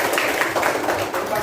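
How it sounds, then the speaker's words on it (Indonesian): A short burst of applause breaks out in an elementary school classroom as pupils clap together for a classmate, a dense, even patter of hands. "Ya, tepuk tangan untuk Mawar."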